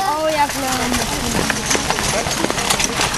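Horses trot with a steady, rhythmic clip-clop of hooves while pulling a carriage through an obstacle in a carriage driving marathon at Holtegård, heard under continuous live commentary.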